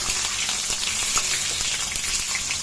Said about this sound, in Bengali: এখন আমি এই উচ্ছেগুলোকে ভেজে নেব